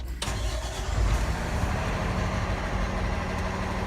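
A Rosenbauer tanker pumper truck's engine cranks over with a brief starter catch, then settles into a steady, loud, close rumble that runs without pause.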